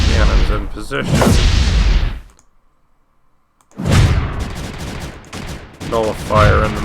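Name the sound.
cannons firing in the video game Creeper World 3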